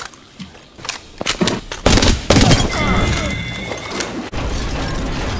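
Rapid shotgun blasts in an online shooter game, several loud bursts close together followed by a sustained rumble of combat noise, with players talking over it.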